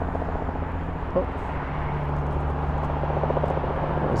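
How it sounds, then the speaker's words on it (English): A helicopter passes overhead in Toronto on a Monday evening, a steady low rotor drone running the whole time under road and traffic noise, moderately loud and continuous. "There's a chopper overhead."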